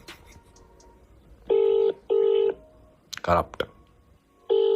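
A telephone call goes through with three loud, long electronic beeps separated by gaps. A brief burst of voice and handling noise falls between the second and third tones.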